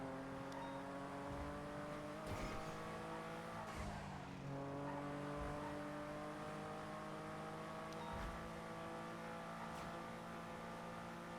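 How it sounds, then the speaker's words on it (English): A Lego car in a video game races along with a sustained, droning engine tone that shifts in pitch, along with faint tire squeals and skids, all at a fairly low level. "Bro, this Lego car is zooming."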